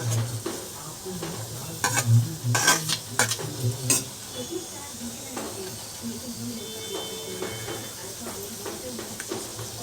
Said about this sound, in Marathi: प्रथम तेलात कांदा टाकायचा.